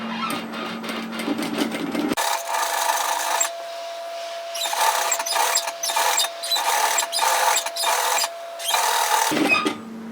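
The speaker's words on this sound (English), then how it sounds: "I'm just stitching through all of those layers on the scarf side" Sewing machine stitching near the edge through several fabric layers of a reversible hooded infinity scarf, about 3 mm in from the edge, running steadily in long bursts with short pauses between them.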